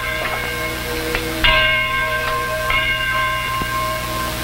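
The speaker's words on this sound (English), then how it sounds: "There's the bell. Isn't it beautiful?" A church bell rings out with long sustained tones, struck anew a few times so fresh clangs overlap the decaying hum, loud and fairly close.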